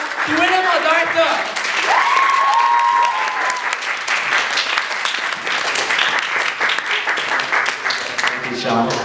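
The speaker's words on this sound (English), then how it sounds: "Once again, give another big round of applause to William, our director." Sustained, loud applause from the audience of a college drama club play, with a few shouts early on, continuing evenly to the end.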